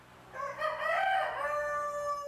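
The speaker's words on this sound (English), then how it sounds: "These are white Langshans." White Langshan show chickens, with a single rooster crow rising and held for about two seconds, fairly close and clear over a quiet background.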